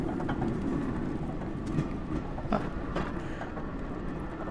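A train runs in the Only Up video game, giving a continuous rolling rumble with a few faint clanks and clicks, steady and moderately loud, with no voices.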